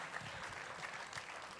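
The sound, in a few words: audience applause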